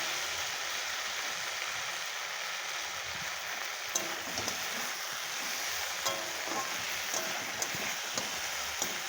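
Green jackfruit curry with ground ginger cooks down in a pan, giving a steady, moderately loud frying hiss with occasional small ticks and scrapes from stirring, and no talk.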